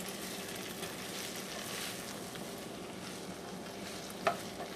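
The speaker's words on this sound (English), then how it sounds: "I'm dumping in a handful of artichoke hearts" Quartered artichoke hearts fry in a pan, giving a steady, even sizzle and hiss with a brief clatter of stirring near the end.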